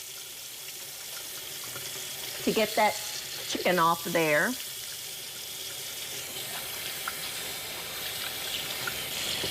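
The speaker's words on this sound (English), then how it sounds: "wash your hands with hot water and soap" Hot tap water runs into a kitchen sink as hands are washed with soap after handling raw poultry, a steady soft hiss throughout, with a person talking briefly over it.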